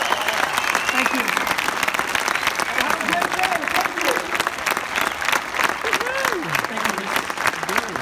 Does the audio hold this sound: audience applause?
yes